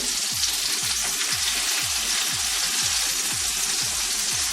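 Protein sears in a hot pan, giving a loud, continuous close-up sizzle and crackle that stays steady throughout, with no speech.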